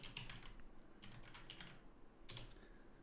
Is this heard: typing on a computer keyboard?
yes